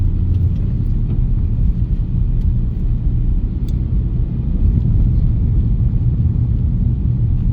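A car driven by a learner in town traffic hums with a low, steady engine rumble from inside the cabin as the driver shifts into third gear, with no voices over it.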